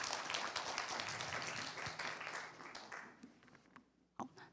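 Audience at a medical lecture on integrated care for older people gives a dense burst of applause that fades out over a few seconds, ending with scattered claps.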